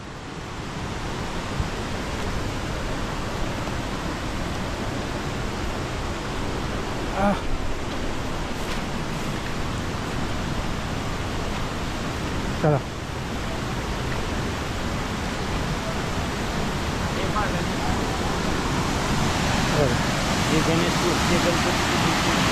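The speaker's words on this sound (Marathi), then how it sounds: "हा आहे गणेश कुंडाचा धबधबा" Ganesh Kund waterfall at Patnadevi near Chalisgaon roars as a loud, constant broadband rush of falling water, close and continuous, with a few faint knocks on top.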